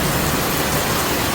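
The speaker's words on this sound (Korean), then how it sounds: "비가 이와 같이 쭉 내리고 있으니 너무너무 좋은 거 아니에요?" Steady rain falls in an even, dense hiss with no pauses or other sounds.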